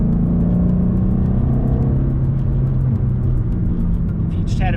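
A 2012 Ford Mustang GT's stock V8 engine rumbles loud and close, a deep throaty drone that rises and holds steady as the car accelerates out of corners on tight mountain roads.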